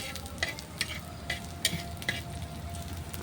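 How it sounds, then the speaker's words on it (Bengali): Sesame seeds and yardlong beans fry in a pan with a constant close sizzle, broken by a rhythmic series of spatula scrapes roughly every half second, with a faint steady hum underneath. "তো এগুলো আমি হালকা আছে কিন্তু ভালো করে ভেজে নিব, যেন সব কিছু সিদ্ধ হয়ে যায়"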